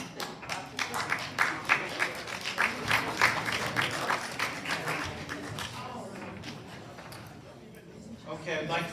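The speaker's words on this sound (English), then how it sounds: "Clapping." Attendees at a homeowners association open board meeting clap together, a fairly close, dense patter of hand claps lasting several seconds and thinning toward the end, with voices mixed underneath.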